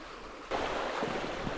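Shallow stream riffles only a couple of inches deep, flowing at dusk; a steady, close rushing wash of water that swells up after a brief quieter start.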